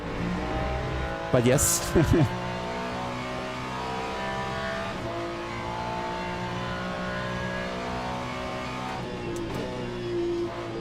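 Porsche race car engine in a sim racing game, a steady droning roar held throughout with a brief sharp rev near the start, while a person talks over it.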